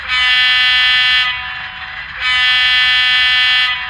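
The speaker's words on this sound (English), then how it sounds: "Here is the horn." A loud, steady electronic model train horn sounds twice, a sustained buzzing tone that breaks off briefly in the middle before resuming.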